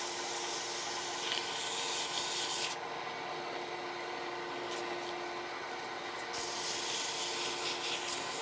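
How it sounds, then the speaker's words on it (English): A pen blank sanded with finer grit sandpaper, likely on a lathe, giving a continuous soft rubbing hiss with a brief quieter gap in the middle, close and steady with no talk. "All I'm doing is removing the scratches from the previous grit."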